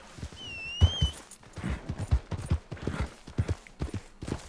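Horse hooves clip-clopping in the Red Dead Redemption Online video game, a quick uneven run of close hoofbeats, with a short whinny-like tone near the start.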